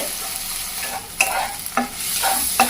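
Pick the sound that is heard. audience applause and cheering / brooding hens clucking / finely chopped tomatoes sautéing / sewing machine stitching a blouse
finely chopped tomatoes sautéing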